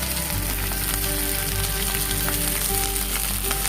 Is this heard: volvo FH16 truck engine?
no